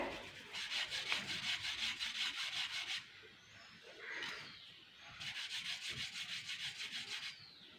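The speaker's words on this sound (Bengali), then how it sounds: "এগুলো তাহলে ঘষে নিচ্ছি এরকম করে।" Flour dough rubbed between the palms into thin semai noodles for kheer gives quiet, rhythmic rasping strokes in two bursts, with a short pause between them.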